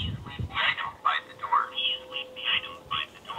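A Tapo D230S1 video doorbell outdoors plays a pre-recorded quick-response phrase, a thin, tinny synthetic voice through a small speaker, somewhat distant amid wind.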